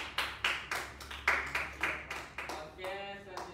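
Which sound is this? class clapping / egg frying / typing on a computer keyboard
class clapping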